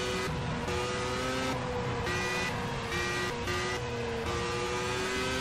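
A race car engine in Project CARS at Road America, on track mid-race, revs in repeated rising and falling whines as the throttle is tapped through a turn, loud and continuous with no talk.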